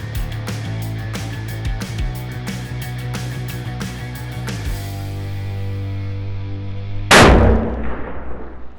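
Clattering, clinking handling noises give way to a single loud rifle shot at shooting targets, a sharp blast followed by a rolling outdoor echo.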